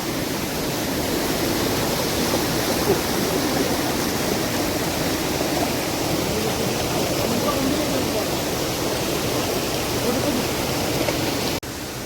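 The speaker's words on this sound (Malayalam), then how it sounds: "തനി ഫോറസ്റ്റിനുള്ളിലാണ് ഈ കേവും ഈ വെള്ളച്ചാട്ടമൊക്കെ" A waterfall deep in a forest near a cave produces a steady, unbroken rushing roar that holds evenly for about eleven seconds before cutting off abruptly.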